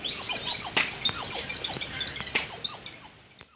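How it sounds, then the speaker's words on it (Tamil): Sparrows chirp repeatedly in short, high, bright bursts, several birds calling over one another at close range. "அந்த குருவி வந்து நல்லா ரெண்டு மூணு குருவியாக கீ கீ கீன்னு சத்திக்கிட்டு இருக்குது"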